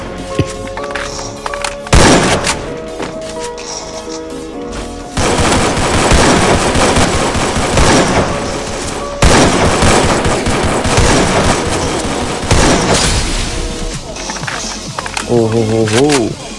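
Rapid AK-47 automatic gunfire in a mobile shooter game, loud sustained bursts with brief gaps, mixed with game effects and someone talking over it.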